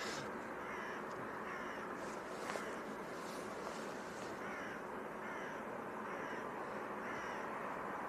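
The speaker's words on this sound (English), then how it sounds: "There's a very noisy crow behind us." A crow caws repeatedly in a regular series of harsh calls outdoors at an airport, moderately near, over a constant broadband roar of wind or distant engine noise.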